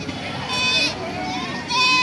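Goats bleat at a busy livestock market in Baliadangi, Thakurgaon, their wavering cries rising over a steady hubbub of crowd voices and nearby talking.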